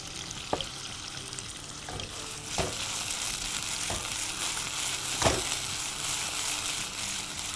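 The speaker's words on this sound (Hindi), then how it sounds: "चिकन डाल दी है और उसके बाद इसमें मैं डालूँगा थोड़ा सा चिकन में हल्का सा मैं सिरका और सोया सॉस" Chicken frying with vinegar and soy sauce for a dry chicken chilli, giving a steady sizzle broken by several sharp stirring clanks and scrapes against the pan, and no voices.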